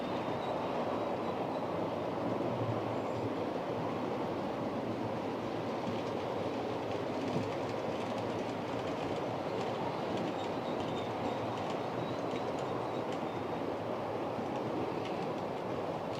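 Model trains running steadily on a layout track, a continuous close rolling rumble with faint wheel clatter throughout, no talking.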